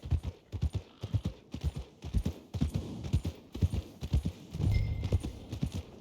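Steady hoof clip-clop from a horse walking along at an even pace in Red Dead Redemption II, close and distinct, with a low rumble of movement beneath.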